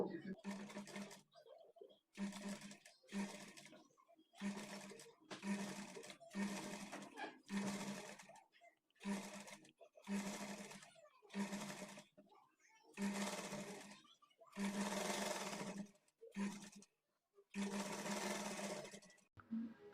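A sewing machine double-stitches a blouse side seam after a sleeve is attached, running in many loud, rapid bursts with short pauses between them and a longer stretch in the middle.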